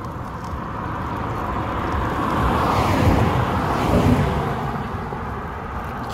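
Cars pass on a rural road at morning, a low rushing roar building to a peak and fading, with a second vehicle swelling close behind the first amid steady wind and road noise.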